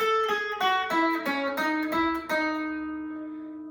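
An electric guitar plays a short melodic riff of plucked notes in a steady rhythm, with the last note left ringing and slowly fading.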